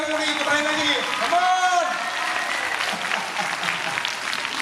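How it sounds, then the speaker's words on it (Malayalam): Applause from a crowd at a family reunion gathering in Valavannur, a steady wash of clapping that runs throughout, with voices and harmonic calls rising over it in the first two seconds. "പ്രതീക്ഷിച്ചുമാരി വന്ന നല്ലൊരു കൈയടി"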